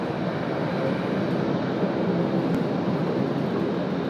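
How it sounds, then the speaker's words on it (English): A Qantas heavy jet inbound from Singapore on final approach at Sydney Airport gives a steady, broad engine roar, continuous and fairly distant, with no talking. "Another heavy joining us here on the morning show. Qantas 84 coming in from Singapore."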